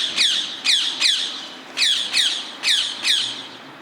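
A wild rose-ringed parakeet squawks repeatedly outdoors, a run of seven loud, raspy screeches in an uneven rhythm roughly every half second, with no voices present.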